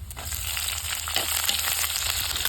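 Crushed shallots and green chillies frying in oil with coconut, giving a loud, steady sizzle and crackle close up, with a low background hum and no speech.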